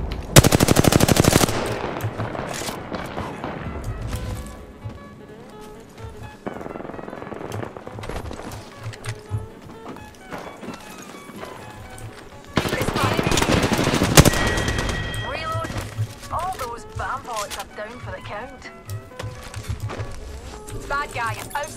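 Automatic gunfire erupts in the battle royale game Apex Legends, bursts of rapid shots recurring across the stretch with a player talking over the action.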